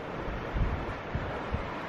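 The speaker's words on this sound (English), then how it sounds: "the water rushes up this channel and the water rushes over this rocky outcrop every now and then" Sea water rushing up a channel and surging over a rocky outcrop in a remote coastal spot, a continuous broad roar with low thuds of waves breaking at intervals, under steady wind noise.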